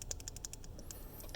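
Clicks from a new magnetic keyboard key switch, a simple magnet-pulled mechanism: a quick run of about ten sharp, close, light clicks in irregular rhythm, faint and alone without talk.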